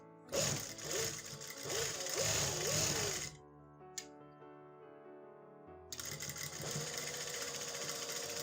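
Stitching along a trouser hem edge, a sewing machine whirrs close up in one burst, stops for a couple of seconds of near-quiet, then starts running again.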